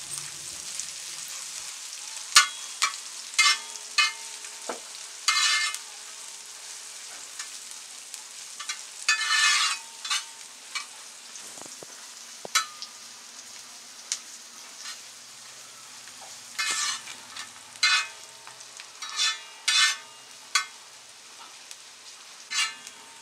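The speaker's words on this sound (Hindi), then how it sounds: "इस तरीके से हम चलाते हुए इसे थोड़ा सा ब्राउन करेंगे।" Three finely chopped large onions sizzling in a pan, with intermittent bursts of scraping as they are stirred to brown; a soft steady fry underneath, close and alone.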